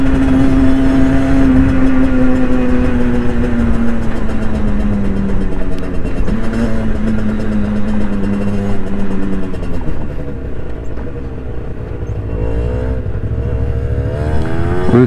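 Motorcycles on a family ride, including a Yamaha TZR 50 and a Kawasaki ER6n 650, accelerate with a loud, steady engine drone whose pitch climbs and drops through gear shifts, close and continuous throughout.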